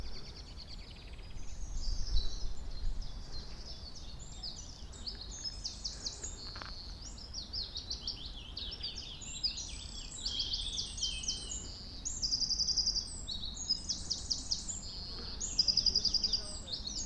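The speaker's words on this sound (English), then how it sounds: "We don't want music over these birds, do we?" Birds sing continuously in a bluebell wood, a dense layer of high chirps and trills that swells and fades over a soft low outdoor rumble.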